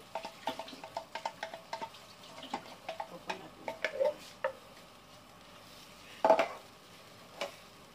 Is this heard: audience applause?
no